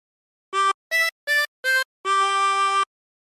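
A 16-hole tremolo harmonica plays a short phrase of Jingle Bells: four quick separate notes followed by one longer held note, bright and reedy, close and alone.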